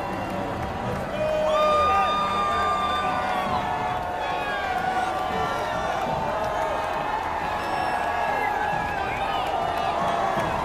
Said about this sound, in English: And Russell getting the crowd into a frenzy.